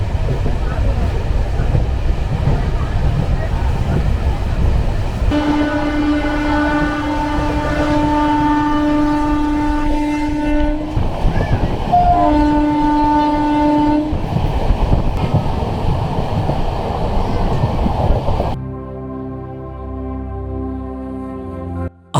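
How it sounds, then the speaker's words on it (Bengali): A train rumbles steadily along the rails toward Purulia Junction, with a long sustained horn blaring over the noise, then the tone shifts as it passes. "আমাদের ট্রেন পুরুলিয়া জংশন প্রবেশ করে বেশ খানিকক্ষণ দাঁড়িয়ে"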